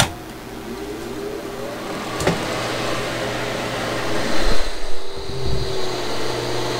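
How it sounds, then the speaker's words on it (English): Space heater running off a Growatt all-in-one inverter, giving a steady mechanical whir and low hum that stays constant and fairly loud throughout, with a brief clunk near the middle and a rougher rattle toward the end. "That space heater's a little bit noisy."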